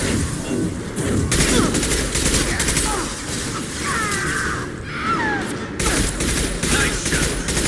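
Dense automatic gunfire rattles through a Mass Effect 2 combat scene in sustained bursts, with heavy impacts and brief gaps, loud and close while a voice calls out over the shooting.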